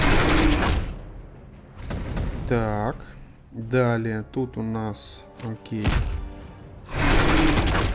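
Loud bursts of gunfire in the video game Warhammer 40,000: Warpforge open and close the stretch, with someone talking in the quieter middle.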